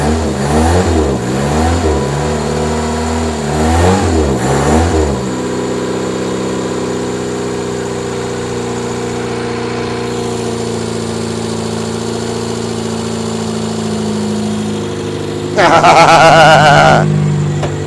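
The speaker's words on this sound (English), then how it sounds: "Well, that's the first time that's fired up since 1999." An old car engine, dormant for 26 years, cranks over in a few rough bursts, catches and settles into a steady close idle, then gets a loud rev near the end; no talking.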